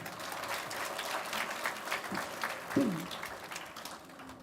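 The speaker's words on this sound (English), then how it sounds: "May we welcome Sir with a big round of applause, please" A university seminar audience claps continuously in warm, sustained applause, with a brief low murmur or thump partway through.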